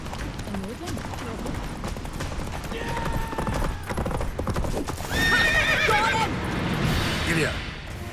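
Horse hooves clip-clopping at a gallop with a loud whinny partway through, from The Witcher 3 game, over a busy backdrop of game music and effects.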